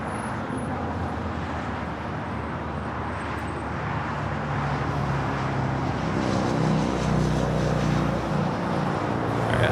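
Lufthansa airliner departing Los Angeles International Airport, a loud continuous jet roar that swells and deepens toward the end, alone with no talk.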